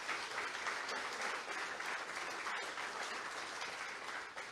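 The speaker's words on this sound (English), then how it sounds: "let's give a great round of applause to the Des Moines Community Playhouse and what it's done" Audience applause at the Iowa Women's Hall of Fame ceremony, honoring the Des Moines Community Playhouse: a sustained, even round of clapping from a crowd, fairly distant and soft, easing slightly toward the end.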